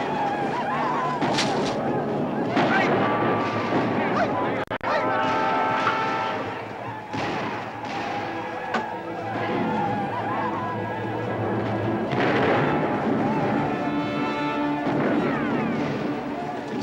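Gunfire rings out in a 1978 frontier adventure film, with scattered sharp shots and booming reports under shouting voices and action noise throughout.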